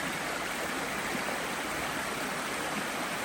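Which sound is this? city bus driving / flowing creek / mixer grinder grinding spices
flowing creek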